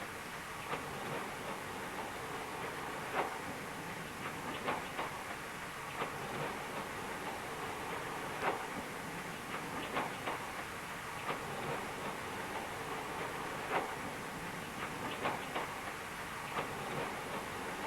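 A diesel train on the Ilfracombe to Barnstaple line in 1969 runs over the rails with a steady rumble and a regular clickety-clack of wheels over joints, heard from inside the train.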